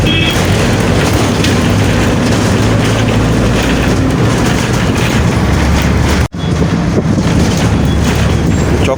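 Circular railway train passing near Howrah, a loud, dense rumble with wheel clatter and wind buffeting close to the microphone, broken by a brief cut, no voices.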